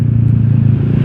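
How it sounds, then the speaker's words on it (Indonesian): A Honda Vario 125 scooter with a racing exhaust and aftermarket silencer gives a loud, close, steady burbling drone with a fast even pulse, heard alone. "sekalian nyobain knalpot racing di Vario 125 ini."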